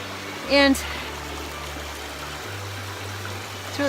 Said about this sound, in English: So this must be Indian Creek.